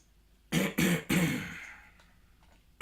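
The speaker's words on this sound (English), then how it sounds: "I got a cough" A man coughs three times in quick succession, harsh close bursts with the last trailing off, followed by quiet before a faint noise at the end.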